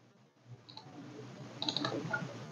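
Computer mouse clicks while editing labels in an assembly plan on screen, a few quiet, crisp clicks in a near-silent room, with a short cluster of clicks toward the end.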